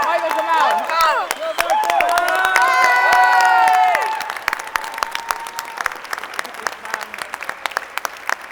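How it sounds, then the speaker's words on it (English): Theatre audience after a performance of Much Ado About Nothing, with loud cheering, whoops and shouting over clapping at first, then the voices fade and scattered handclaps continue alone. "give him a huge round of applause"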